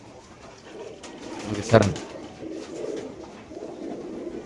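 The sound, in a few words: racing pigeons cooing in a cage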